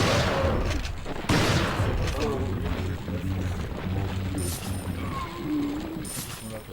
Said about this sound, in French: là je tire toutes mes cartouches